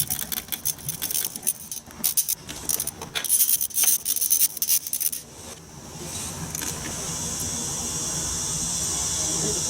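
A wrench works 10mm bolts off the check valve case covers of a Honda Valkyrie motorcycle: about five seconds of quick metallic clicks and scrapes nearby, followed by a steady hiss.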